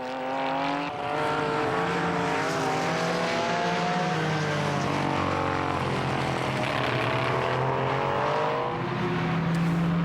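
Classic race cars such as a Porsche 906 and an AC Cobra at a historic motoring event, with loud, continuous engine roar that rises and falls in pitch as the cars rev and pass, with no talk.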